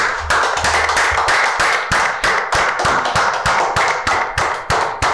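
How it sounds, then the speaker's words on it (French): A crowd claps in congratulation after a music video is shown, a dense, steady run of hand claps with regular sharp accents, loud and close, carrying on without talk. "Félicitations, ça doit s'applaudir s'il vous plaît."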